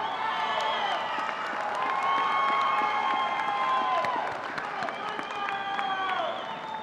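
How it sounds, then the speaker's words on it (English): Sustained crowd applause mixed with cheers and whistles rises from a commencement audience at a spring morning graduation ceremony, steady and broad throughout, with shouts scattered over the clapping. "Give them a round of applause."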